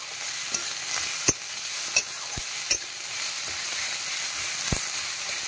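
Onions fry on high heat in a pan, a steady soft sizzle broken by several sharp clinks and scrapes of a spoon stirring, close and alone.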